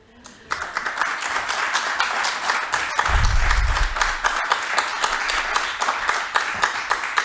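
An audience applauds at a city planning commission public meeting, with steady dense clapping starting abruptly and continuing throughout, mixed with scattered voices and a low thump partway through.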